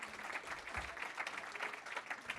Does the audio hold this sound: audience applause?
yes